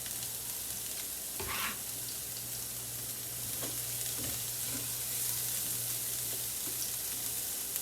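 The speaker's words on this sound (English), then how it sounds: "You want to hear that sizzle." Food fries in a pan with a faint, steady sizzle and crackle under a constant low hum, broken by a few brief stirring or scraping knocks; no one speaks.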